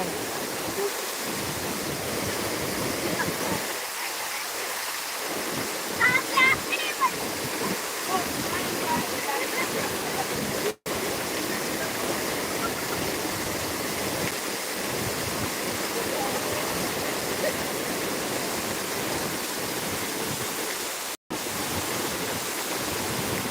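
Loud, continuous rush of a waterfall and rain fills the clip, a broad steady roar with brief dropouts and no clear speech.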